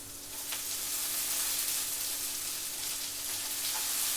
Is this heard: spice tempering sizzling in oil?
yes